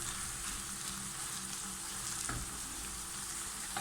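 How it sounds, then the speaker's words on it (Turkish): Minced meat and onion fry together in a pan for a Turkish eggplant kebab, a steady close sizzle with brief stirring scrapes and no talking. "kıymayla beraber soğanı da güzelce kavuruyorum"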